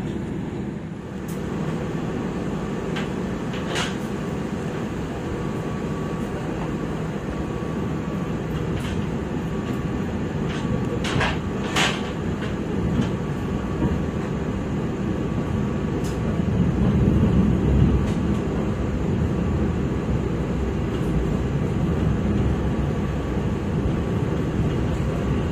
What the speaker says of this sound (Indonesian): Kereta api Jayabaya sudah diberangkatkan dari stasiun Sidoarjo